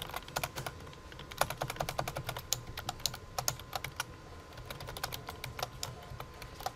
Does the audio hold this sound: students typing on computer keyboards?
yes